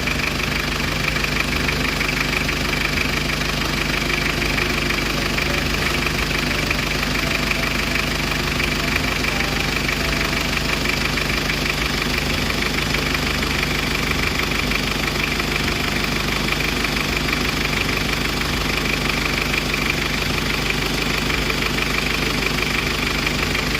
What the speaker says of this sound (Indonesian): Nah ini mesinnya Mas Bos. Enak banget nih.